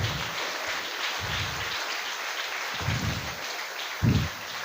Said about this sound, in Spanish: Dele un aplauso a los príncipes de Israel.